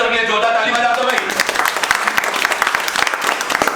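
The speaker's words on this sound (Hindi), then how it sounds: "एक बार इन सारे फ्रेशर के लिए जोरदार ताली बजा दो भाई।" A crowd of freshers and staff at a mobile-repair training session applauds loudly. Faint talk and music are heard at the start, then the clapping grows into dense, energetic applause.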